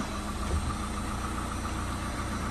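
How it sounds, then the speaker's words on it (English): An Adria camper van's engine idles with a steady, continuous low rumbling drone, even and unchanging throughout with no voices. "now I'm going to start the engine"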